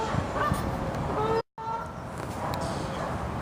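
A goose honks near a lake during a summer fishing session, with a few short nasal calls over steady outdoor ambience and a brief dropout in the middle.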